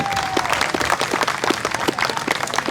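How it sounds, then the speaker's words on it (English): A crowd claps steadily and loudly at the Unadilla Showdown, dense applause filling the whole stretch with no pauses. "let's give the Mixon family a big round of applause here"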